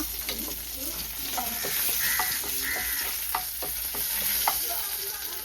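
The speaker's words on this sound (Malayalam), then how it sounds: "വെളുത്തുള്ളിയാണ് പൊട്ടിക്കണത് കേട്ടോ മൂപ്പിക്കണത് കേട്ടോ" Garlic frying in hot oil, a steady crackling sizzle with occasional stirring scrapes and pops, close and fairly loud throughout.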